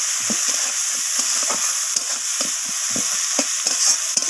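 Chopped onion fries in a pan for a fish-head and cabbage curry, giving a loud, steady sizzle broken by repeated soft scrapes of a spatula stirring, with no voices.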